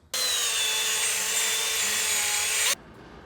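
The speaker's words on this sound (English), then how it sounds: "you're going to wire wheel up your hub, brake clean it all off good" Wire wheel grinding against the rear brake hub of a 2013 Audi A4, a loud, bright, continuous abrasive whir that starts abruptly and cuts off after about two and a half seconds, close up with no speech.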